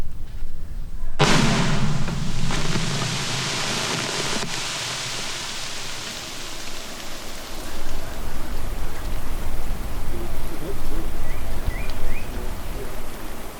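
A loud blast from old weapons being destroyed in a dug pit in thick jungle, a sudden broadband burst followed by a long rumbling, rain-like roar of falling debris that fades slowly.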